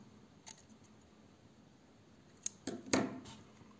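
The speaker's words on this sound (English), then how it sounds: "and now cut yarn" Scissors snipping crochet yarn, a quiet tick followed by a couple of crisp close cuts about a second apart, with faint handling noise around them.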